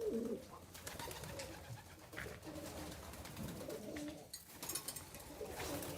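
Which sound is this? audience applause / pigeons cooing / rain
pigeons cooing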